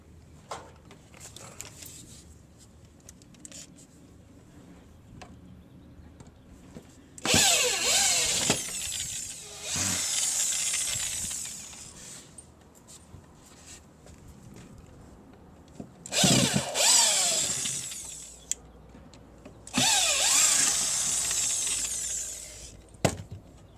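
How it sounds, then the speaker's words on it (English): A power drill backs out old deck screws on a deck being re-decked with Trex, in four loud bursts of whirring, each a few seconds long, separated by quieter pauses with faint background noise. "I want to loosen what screws I can."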